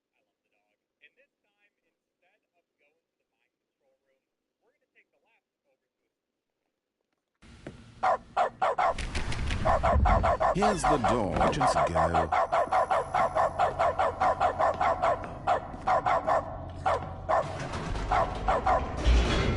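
Dog mode in The Stanley Parable: a game dog barks and yips in quick, loud, repeated bursts over steady game sound, after a short stretch of near silence with a brief spoken line.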